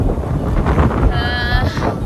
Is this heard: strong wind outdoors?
yes